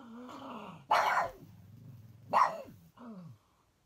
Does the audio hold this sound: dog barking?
yes